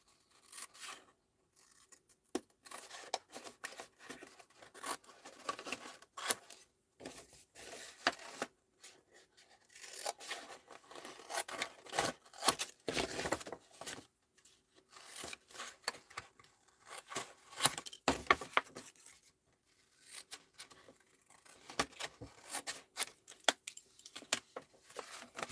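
Scissors snipping the corners off paper for a junk journal, with repeated close, crisp cuts in irregular bursts separated by short quiet gaps, alone without talk.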